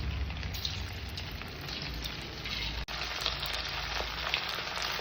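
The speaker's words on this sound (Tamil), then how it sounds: "போட்டு பொரித்து எடுக்கவும்." Chicken 65 pieces deep frying in hot oil, a steady dense crackling sizzle with scattered pops that holds on throughout, one brief dropout midway, no voices.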